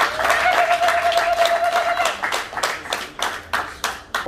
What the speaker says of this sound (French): applaudissez pour le papa